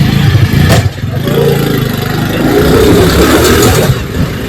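Motorbike engine close by, loud and revving as the rider sets off for a chicken shop, rising and falling in a continuous rumble with a brief dip near the start.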